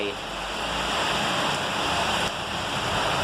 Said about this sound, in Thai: ฝนตก อากาศเย็นมากครับ